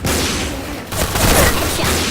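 A loud burst of gunfire and a booming grenade explosion in the Point Blank shooter game, with dense, continuous noise over about two seconds that swells after a brief dip, and no voices.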